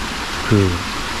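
The Yongsu waterfall beside Dogapsa temple pours with a steady, close rushing roar throughout, and a brief low voice-like sound cuts in midway.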